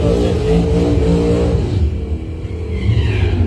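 Doorslammer drag race cars, including a Monte Carlo, blast down the track at a test and tune event, engines roaring loud and steady with a throaty, rising rumble that dominates throughout.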